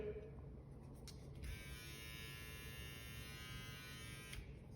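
A Moser ChroMini Pro 2 cordless hair trimmer running alone, giving a steady, faint electric buzz with a thin high whine that shifts slightly partway through, no talking.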